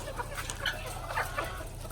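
Chickens cluck repeatedly inside a poultry building, overlapping calls from several birds at moderate distance above a steady low ventilation hum.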